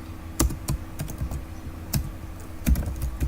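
Typing HTML code on a computer keyboard in Notepad, irregular clicky keystrokes in short bursts with a few louder taps, close and alone with no talk.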